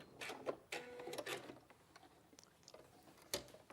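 Domestic sewing machine stitching a line in short mechanical bursts, close and fairly clear, with brief pauses between runs of the needle.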